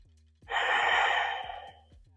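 A long, deep yoga breath, a steady breathy exhale that swells and fades over about a second and a half, close and fairly loud, with no speech.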